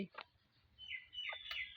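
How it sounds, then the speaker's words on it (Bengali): A few soft clucks and short chirps come from chickens eating close by, brief and quiet against a low background. "মুরগিগুলো খাইতেছে"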